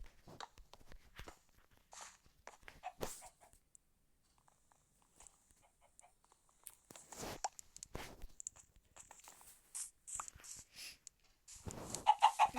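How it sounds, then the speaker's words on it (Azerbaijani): Chickens in the Minecraft video game cluck in short scattered bursts among footstep-like taps, fairly quiet with gaps of near silence, growing busier toward the end. "Aha, toyuqlar da yumurtlayıblar."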